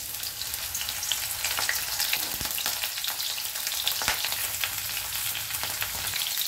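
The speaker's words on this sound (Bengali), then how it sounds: "আগে ফুলকপি আর আলুগুলো ভাজবো।" Cauliflower and potato pieces frying in oil in a wok, a loud continuous crackling sizzle with a few sharp stirring knocks and no voices.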